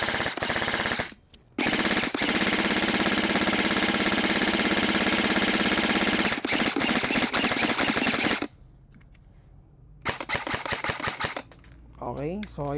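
E&C and WE airsoft AEG rifles, models 307, 105 and 314, fire loud sustained full-auto bursts close by, with brief pauses between strings and a short quieter gap before a final choppier burst.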